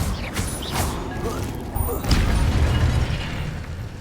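The Incendio fire spell from Hogwarts Legacy goes off amid a run of combat effects, with whooshing bursts and heavy thumps building to a louder impact midway through the clip.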